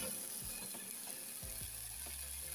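Tomatoes and onions with curry powder frying in a pan give a steady soft sizzle, with a few faint stirring scrapes and no voices.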